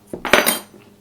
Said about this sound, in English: Give that a nice little beat in.